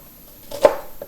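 A knife slicing an onion thin on a cutting board while pickled cauliflower is made, giving two or three close, crisp cuts after a quiet moment.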